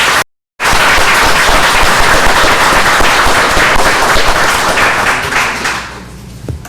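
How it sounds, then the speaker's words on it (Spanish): Seminar audience applauding the day's panel participants, a dense, loud burst of clapping after a brief cut, steady for several seconds before tapering off near the end. "les pido un aplauso para los participantes en la mesa del día de hoy"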